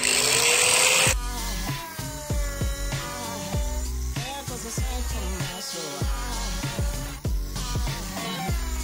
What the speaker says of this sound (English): we're gonna cut it out of the steel